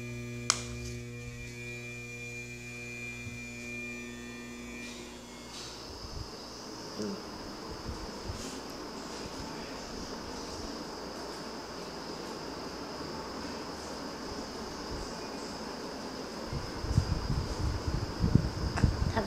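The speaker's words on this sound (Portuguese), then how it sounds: "Tá ventilando." A Venti-Delta New Montana ceiling fan running at maximum speed: a soft, steady whoosh of moving air with a faint hum, fairly quiet and continuous.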